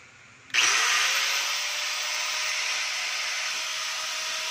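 A DeWalt DWE8200S 4-inch angle grinder switches on abruptly and spins up to a steady high-pitched whine, running close and continuously with no voices.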